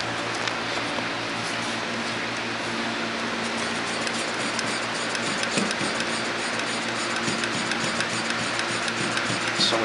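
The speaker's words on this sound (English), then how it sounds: "we're going to test a 79 Coupe Deville cruise control servo, vacuum servo, by using a vacuum pump hooked up to this vacuum port here" A vacuum pump hooked to the port of a 1979 Cadillac Coupe Deville cruise control vacuum servo, run off the car on a bench, makes a steady, close mechanical whirr with faint ticking throughout.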